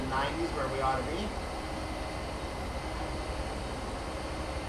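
A train runs at speed on the Bristol to Exeter route in a train driving game, a steady low rolling rumble and cab drone throughout, with faint tonal sounds at the start.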